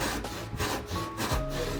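A hand saw cuts an angle into a square wooden glide bait blank, giving rhythmic rasping strokes about four times a second, close and fairly loud, with no voices.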